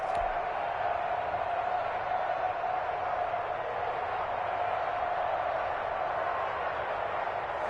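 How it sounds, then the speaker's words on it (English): Football stadium crowd during a game ahead of a big third down, a steady, dense roar of many voices that holds loud and even throughout with no clear peaks. "The crowd getting into it as we come up on a big 3rd down."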